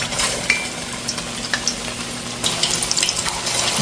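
Meatballs fry in a pot over medium heat, a continuous close sizzle with occasional sharper pops and scraping stirs, getting somewhat busier toward the end.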